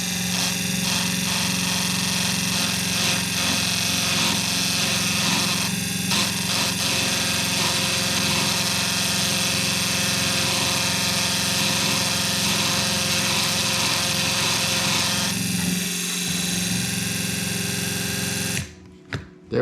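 A lawn mower engine runs steadily and loudly, its blade being sharpened while it spins, a constant high mechanical whine with broadband grinding throughout, cutting out near the end with a few brief knocks.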